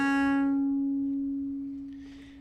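A viola da gamba sustains a single bowed note with rich harmonics that slowly fades, demonstrating a French port-de-voix ornament with a leaning note; a short soft noise enters near the end.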